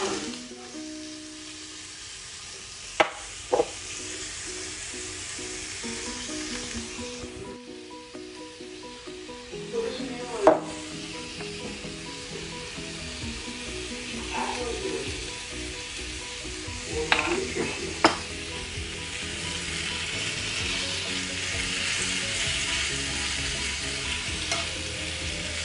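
Cabbage fries in bacon grease in a pan, giving a steady mid-level sizzle with a few louder pops and stirring scrapes scattered through.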